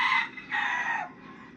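A rooster crows close by in a loud, harsh call with two strong bursts followed by a fading tail, with no one speaking over it.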